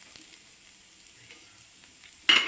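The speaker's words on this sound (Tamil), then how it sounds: "கொஞ்சம் தேங்காய் எண்ணெய் விடலாம்." Coconut oil hitting a hot pan: faint quiet background, then a sudden loud burst of sizzling at the very end.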